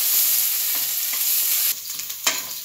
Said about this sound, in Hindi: अब डालते हैं बारीक कटी हुई प्याज, इसको हल्का ब्राउन कर लेते हैं